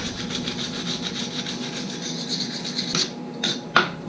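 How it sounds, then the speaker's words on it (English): Wire brush scrubbing rusty axle splines in rapid, repeated rasping strokes, close and loud, before a few sharper scrapes and pauses near the end. "Where's my wire brush? Rusty."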